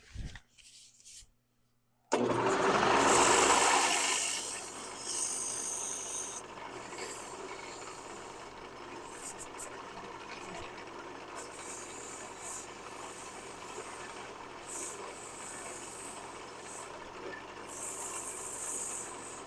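A woodturning piece spins on a lathe while 150 grit sandpaper rubs against it, a steady broad rushing hiss over a low motor hum, close and continuous after a brief quiet start, no talk.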